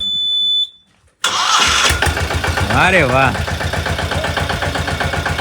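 A small new tractor engine starts after a short electronic beep, catching abruptly and settling into a loud, close, steady chugging idle while a voice speaks over it briefly.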